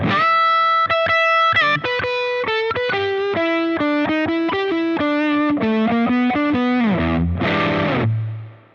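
A heavily distorted electric guitar plays a quick blues-rock lick, with rapid picked notes stepping down and a final bend and sustained low note, loud and alone.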